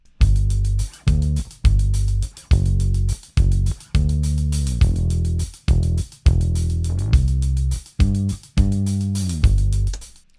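AI-generated bass line played back in Logic Pro 11, a deep plucked synth bass in short repeated phrases with brief gaps, loud and alone with no voices.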